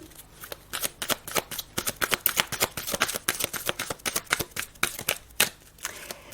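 Tarot cards shuffled by hand in quick, rapid riffling bursts, close and crisp, running continuously with brief pauses between flurries.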